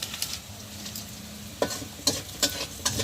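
Fish fries in oil in a home kitchen, a low steady sizzle broken by a few sharp clicks and scrapes of a utensil against the pan near the end, with no voices.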